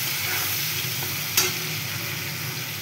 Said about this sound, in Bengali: এটাকে নাড়িয়ে দেবো। এটাকে একটু লাল লাল করে ভাজবো।